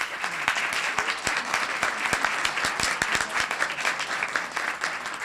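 Applause at a town council meeting: a room of people clapping steadily with distinct individual claps audible, moderately loud and close, lasting throughout without talk.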